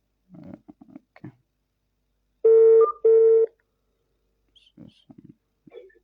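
Several touch-tone telephone keys pressed in two quick bursts of steady dial tones as a number is dialed, with muffled talk before and after.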